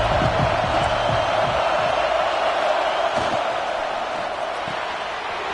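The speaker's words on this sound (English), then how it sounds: "This crowd ready to make its presence known." A large stadium crowd at an American football game roars in a dense, sustained wash of cheering and shouts, loud and continuous throughout, with a commentator's voice faintly underneath.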